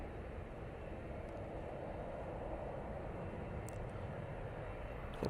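A Boeing 747 on a go-around roars as a steady, loud broadband jet engine rumble that holds constant throughout, close and continuous with no voices.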